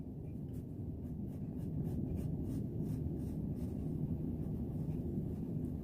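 Soft scratching of a pencil on paper while drawing a cartoon chameleon's smile, a steady faint rasp of short strokes set against a low background hum.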